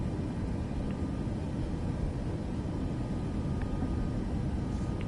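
A steady, broadband roar from an airliner's engines during its takeoff roll in Microsoft Flight Simulator, constant and moderately loud throughout with no voices.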